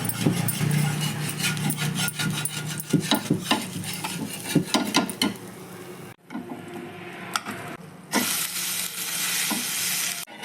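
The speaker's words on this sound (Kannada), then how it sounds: "ದೋಸೆ ಕಾದಿದೆ, ತಿರುಗಿಸಾಕೊಳ್ಳೋಣ." A rava uttappam is turned over on a pan with the stove switched off, giving a close scraping, rubbing sizzle that drops out briefly before a fresh burst of scraping and frying.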